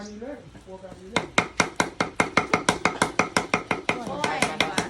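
Rapid, steady chopping on a board, about a dozen sharp knife strikes in a quick even rhythm while preparing fermented fish paste, close by, after a brief moment of voice at the start.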